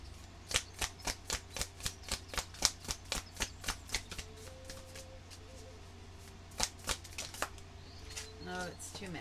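Tarot cards are shuffled close by in a quick, even run of crisp riffles, then a pause, then a few more riffles and a soft rustle, with a low steady hum underneath.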